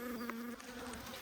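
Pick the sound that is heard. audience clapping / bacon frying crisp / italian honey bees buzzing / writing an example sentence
italian honey bees buzzing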